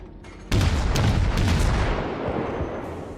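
Battleship guns fire in the naval game World of Warships and hit a cruiser: a sudden heavy booming blast that rolls into a long, rumbling decay, loud and close.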